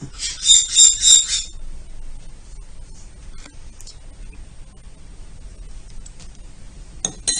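Microworm culture medium being mixed in a small container, with a brief burst of clinking, scraping stirs near the start, then quiet, and a short scrape again at the end.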